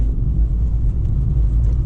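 Interior of a Fiat 500 1.2 Lounge hire car driving on a wet, drizzly day, a steady loud low cabin rumble of engine and road noise with no speech.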